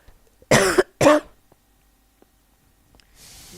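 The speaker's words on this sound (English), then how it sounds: "Sorry about the cough." Two sharp, loud coughs close up in quick succession, followed by quiet and then faint background hiss.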